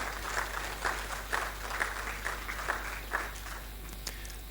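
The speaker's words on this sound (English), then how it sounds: "Please, can we give a warm round of applause to Chief Odeyemi?" Audience applause at a talk on Yoruba glass beads, a moderate crowd clapping with a rhythmic pulse of synchronized claps, fairly faint over a low steady hum.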